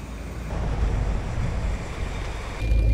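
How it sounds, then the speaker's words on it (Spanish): A sudden rain shower pours down as a dense, even hiss of falling water, loud and close, with a heavier rumbling gust toward the end and no talk over it. "Se vino el agua."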